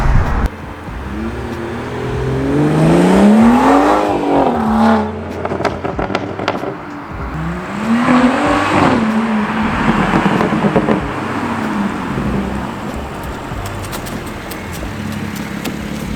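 A BMW 340i aftermarket exhaust revs hard twice in a tunnel, rising harmonics echoing off enclosed walls, then settles into a loud, rumbling cruise with crackles.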